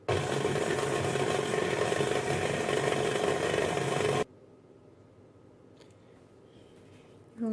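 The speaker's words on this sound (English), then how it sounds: "And add my attachment and mix it on speed 2." Close by, a stand mixer runs loud and steady on speed 2, churning cookie dough of shortening and sugar for soft sugar cookies, then cuts off abruptly midway, leaving quiet room tone and a few faint clicks.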